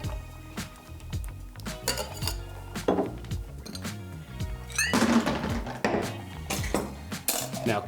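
A metal cocktail shaking tin packed with ice is shaken hard, giving bursts of rattling, clinking ice against metal in uneven rhythmic pulses, close and fairly loud.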